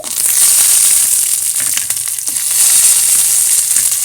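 Chillies, garlic and ginger fry in hot oil for carrot chutney, making a loud, dense, close-up sizzle with crackling spits that continue without a break.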